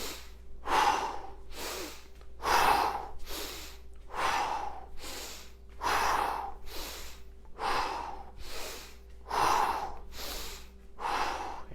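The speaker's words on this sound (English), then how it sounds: "In through the nose, out through the mouth." During a home workout, a person breathes in through the nose and out through the mouth in steady, close, audible cycles, about seven sharp inhales and exhales with short pauses between them.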